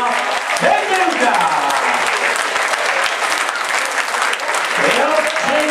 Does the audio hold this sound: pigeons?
no